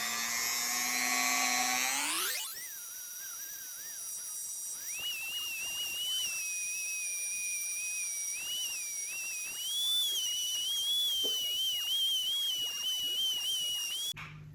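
A polishing tool spins up with a rising whine and then holds a steady high-pitched buzz as it buffs a 1964 Suzuki K10 front wheel hub with compound, close and continuous, wavering slightly under load, with no talk.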